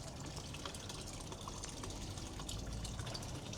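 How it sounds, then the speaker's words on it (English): Water falls steadily in a garden water feature at a countryside retreat in Swellendam, a soft continuous splashing hiss heard faintly and alone. "I love the water that's falling all over"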